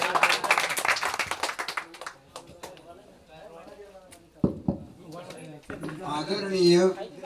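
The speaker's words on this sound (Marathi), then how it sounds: "जोरात टाळ्या." Audience clapping at a school alumni reunion erupts briefly and fairly loudly at the start, then gives way to a person talking, with a little more clapping mixed in near the end.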